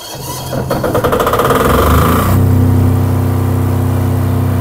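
A 10 kVA diesel generator is started with a key: a short cranking burst catches and settles into a loud, steady, droning idle with a deep rumble, heard close up without talk.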